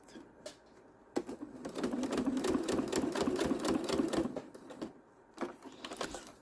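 A sewing machine runs steadily for several seconds, stitching scrap fabric into a key fob at a long 3.0 stitch length, with brief handling noises before and after the burst.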